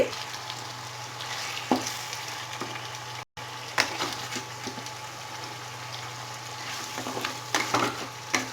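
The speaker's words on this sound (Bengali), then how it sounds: "এইবারে চিকেনটাকে আমি পাঁচ মিনিটের জন্য ঢেকে একদম হিট কমিয়ে কষিয়ে নেব" Chicken cooks with spices in a pan over low heat, giving a steady close sizzle with occasional stirring scrapes and pops.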